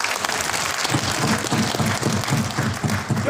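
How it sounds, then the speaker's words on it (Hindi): Audience applause fills a teachers' honour ceremony held by the North Delhi Municipal Corporation: a dense, steady wash of clapping with a faint rhythmic pulse running through it, sustained loud throughout. "तो ताली बजा दो"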